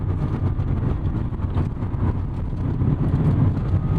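A 1991 Chevrolet Corvette C4 ZR-1 engine blipping on a rev-matched downshift, a loud dense drone heard from inside the cabin with road and wind noise throughout.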